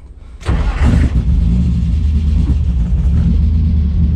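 An E85-fuelled drift car engine fires up after a spray of starter fluid, a sharp crank-and-catch burst followed by a loud, deep, lumpy idle rumble close by.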